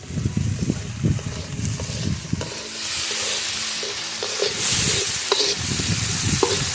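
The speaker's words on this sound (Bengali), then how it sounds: "আলুগুলো ভালো করে ভাজা করে নেবো" Potatoes with salt and turmeric sizzling in a pan while a spatula stirs and scrapes them in repeated bursts, near and moderately loud, with no talking.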